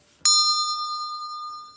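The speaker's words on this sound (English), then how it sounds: "I'll get out my little Emily bell." A small bell, used as a podcast sound effect, gives one clear ding that rings out with a long, slowly fading tone in an otherwise quiet moment.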